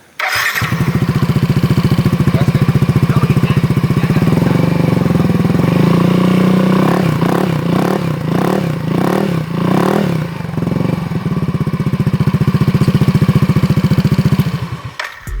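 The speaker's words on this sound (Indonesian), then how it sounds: "jadi ini dia suara knalpotnya" Yamaha NMAX motorcycle fitted with an R9 Misano exhaust, close and loud, holding a deep, bassy idle then blipped through several quick revs in the middle before settling back and cutting off.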